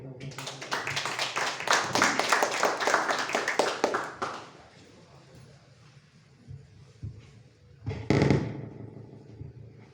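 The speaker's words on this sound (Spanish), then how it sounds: "Recibamos con fuertes aplausos." Audience at a book presentation in a library clapping in a burst of distinct, individual hand claps for about four seconds before stopping, followed by quieter room noise and a brief thump.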